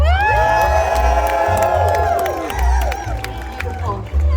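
An Old Lahaina Luau audience cheers, whoops and shouts loudly at an evening show, with many overlapping high voices close by and a few bursts of rhythmic stomping or clapping.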